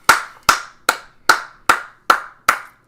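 Seven sharp hand claps in a slow, even rhythm, close and loud, with no voices around them.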